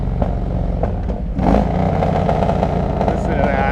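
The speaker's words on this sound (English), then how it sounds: "this thing can be very irritating if you don't like loud bikes" A Harley-Davidson Road King Classic with 39-inch fishtail exhausts rumbling loudly, its engine note rising into a revving roar with clattering road noise, heard close up.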